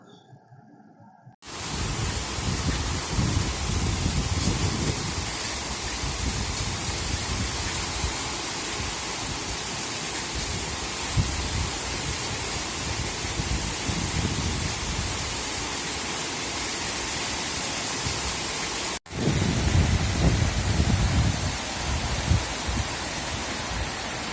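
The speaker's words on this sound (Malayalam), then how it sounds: "ഒരു മഴത്തുള്ളികളൊക്കെ ഇങ്ങനെ വീണ പോലെയൊക്കെ കേൾക്കണം കേട്ടോ" Steady, heavy rain pours down in a dense continuous hiss, starting abruptly and holding level throughout, with a brief dropout near the end; no thunder stands out.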